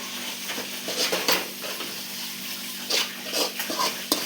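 Tomatoes and spices being mixed in a cooking pan, a steady soft sizzle with intermittent scraping and clinking of the spoon at close range.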